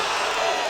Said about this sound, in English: The crowd loves it, eating that up.